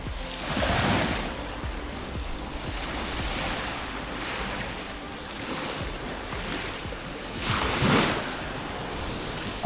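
Sea waves breaking on a beach at Larnaca, Cyprus, a steady surf wash with two louder crashing swells near the start and end, accompanied by wind buffeting the microphone.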